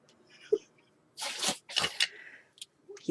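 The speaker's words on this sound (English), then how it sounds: "my dog's got a bad nose and he keeps sneezing" A pet dog named Berkeley with a sore nose sneezes in a couple of sharp, wet bursts close by, with a small sniff beforehand and snuffling afterward.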